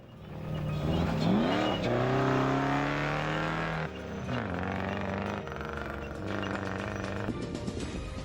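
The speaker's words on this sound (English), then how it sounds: "TG Janse van Rensburg and SV Conradi in their Class F Lexus-powered Toyota Hilux." A rally race vehicle, a Class F Lexus-powered Toyota Hilux in a desert race, roars past with its engine climbing in pitch, then drones steadily as it pulls away, loud and continuous.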